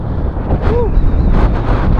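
Steady wind buffeting a microphone outdoors in open farmland, a low rumbling roar that stays loud and constant throughout.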